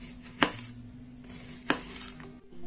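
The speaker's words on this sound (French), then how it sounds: "Déjà je vais couper mon oignon en tranches très fines." Two sharp knife cuts through an onion on a cutting board, spaced more than a second apart, crisp and close against a quiet kitchen background with a low hum.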